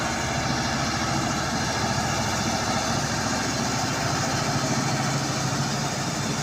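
A Mitsubishi L300 pickup engine drones loud and steady at close range as the driver accelerates, a constant rumbling roar with no pauses and no voices.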